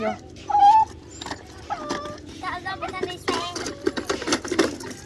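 A dog howls and whimpers with rising, wavering tones in short bursts, mixed with people talking nearby.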